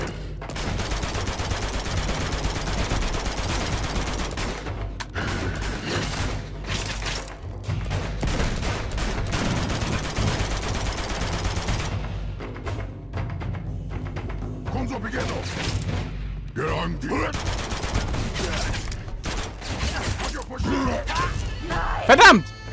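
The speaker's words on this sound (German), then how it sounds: "Immer weiter schießen!" Sustained, dense gunfire in the video game Uncharted 2, with rapid shots and clatter running for over twenty seconds, mixed with game noise and intermittent talk.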